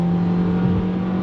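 A 2023 Nissan Versa SR accelerating under throttle, heard from inside as a steady engine drone with a rising whirring tone over a brief moment.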